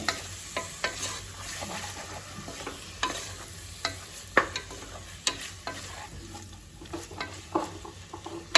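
Mutton liver being stirred in a frying pan for kaju pulao gives a steady sizzle under repeated spoon taps and scrapes against the pan, close and without talk.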